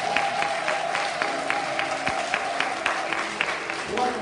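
A church congregation at a prophetic worship service claps together in a brisk, even rhythm, many hands beating in time at close range, without talking.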